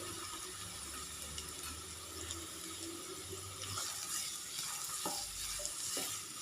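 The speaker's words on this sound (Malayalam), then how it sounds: "സവാള നന്നായിട്ടൊന്ന് വഴറ്റിയെടുക്കണം കേട്ടോ." Finely chopped medium onion sautés in a pan for soya roast, a soft steady sizzle with intermittent stirring and spoon scrapes, no talking.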